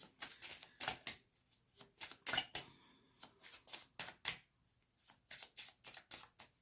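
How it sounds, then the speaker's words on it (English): Tarot cards shuffled in repeated quick riffling bursts, each a sharp papery flutter separated by brief pauses, close and fairly quiet with no talking. "I'm going to pull a card on that, to be honest"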